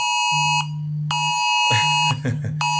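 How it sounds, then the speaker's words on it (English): An alarm buzzer sounds in sharp, harsh electronic bursts, cutting off and restarting several times, loud and close, with a brief muffled disturbance midway. "It is just the alarms because of the..."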